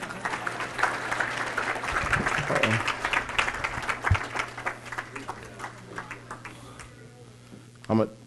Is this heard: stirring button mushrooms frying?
no